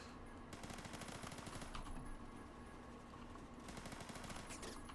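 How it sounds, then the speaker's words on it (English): Rapid automatic gunfire in the Phantom Forces video game rattles almost continuously, sustained bursts of machine-gun fire with brief pauses, fairly close and dense, with no talking. "No, we're getting shot in the back."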